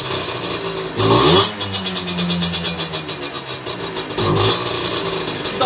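A small motorcycle engine fitted with a 17.5mm carburetor blips sharply to a high rev twice, falling back between bursts to an uneven, pulsing idle, loud and close with no talk.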